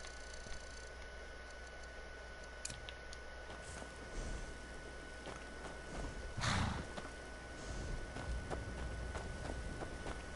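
A horse whinnies once midway, loud and close, amid a game soundscape of faint hoof clops and background ambience; no talking.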